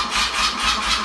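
A BMW R100RT motorcycle engine cranks and catches, a short burst of pulsing mechanical churn with rhythmic surges, close and fairly loud, no speech over it.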